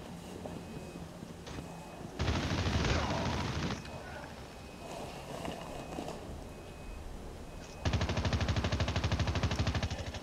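Gunfire in Call of Duty Mobile team deathmatch: a dense loud burst of shots, then quieter scattered fire, then a rapid steady machine-gun rattle at the end, with a voice speaking faintly underneath.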